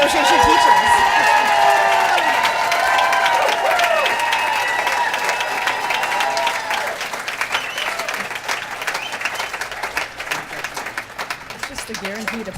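Loud, sustained applause and cheering from a crowd at a school board of education meeting, with overlapping voices and shouts riding on top before the clapping gradually thins.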